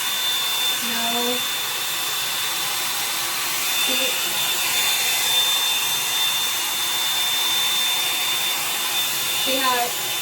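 A Revlon hair dryer brush runs steadily with a constant whooshing airflow and a high motor whine, loud and close, while someone talks briefly over it.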